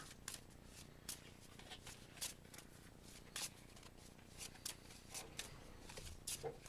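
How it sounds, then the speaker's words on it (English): A deck of KeyForge cards being shuffled, with repeated riffle bursts and soft card slaps in an irregular rhythm, close up at a low level in a quiet room. "Shuffle. Draw 4."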